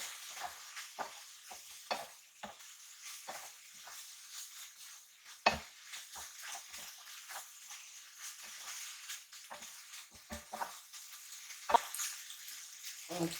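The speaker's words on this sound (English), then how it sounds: "I'm going to mix up the pasta." Seafood aglio olio pasta being stirred and tossed in a pan, a soft continuous sizzle broken by repeated scraping and clattering strokes of the utensil, close and moderately loud with no talking.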